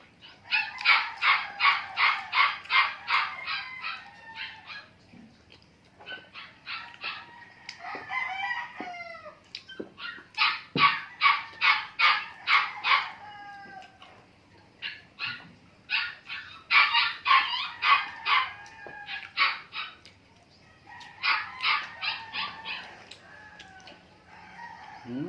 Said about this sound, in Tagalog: Pasensya na po, may maingay yung aso.